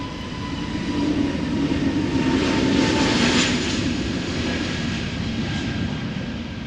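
Brand-new EasyJet Airbus A320neo taking off at Amsterdam Schiphol, a powerful engine roar that swells to a peak midway and eases slightly, with a low steady drone underneath and no talk.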